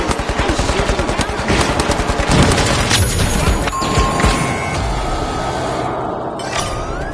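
Rapid automatic gunfire rains down from hovering UFOs onto contestants in the shooter game The Finals, a loud sustained rattle of shots with booms and crashes layered over dense game noise, without talk.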